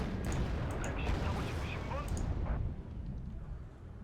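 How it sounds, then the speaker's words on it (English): Recoilless rifle fire in the war strategy game Wargame: Red Dragon, set in a Second Korean War campaign, with a loud booming blast and rumbling battlefield noise that fades toward the end. There is no talking. "taking a century to fire this recoilless rifle"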